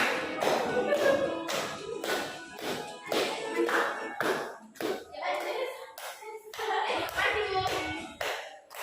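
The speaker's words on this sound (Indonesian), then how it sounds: "Ayo tepuk tangan semangat." Students in a junior high classroom clap their hands along with an anti-bullying song, a loud uneven run of claps and thumps mixed with singing voices.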